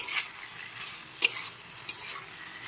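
Raw mango pieces stirred into mustard paste in a pan for a rohu fish curry, with a soft faint sizzle and two brief metallic taps of the spoon against the pan.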